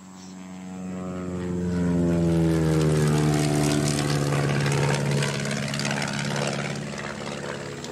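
A propeller airplane in flight gives a steady droning engine hum with strong harmonic tones, swelling louder over the first couple of seconds and then holding and easing slightly; no voices are heard.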